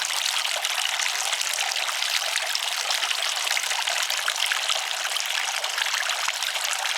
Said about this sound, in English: could just sit here all day and listen to the water